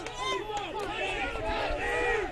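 A rowdy crowd at a high school baseball game yells and cheers continuously, a dense wash of shouting voices filling the stands, loud and sustained throughout.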